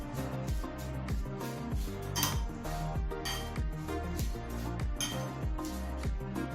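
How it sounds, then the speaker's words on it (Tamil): Banana blossom is mixed with curry leaves, tomato and chillies in a dish, making steady rhythmic clinks and taps of a utensil against the bowl, quiet and close. "அந்த வாழைப்பூவை கருவேப்பிலை, தக்காளி, கறிமிளகாயோடு சேர்த்துக்கிறேன்."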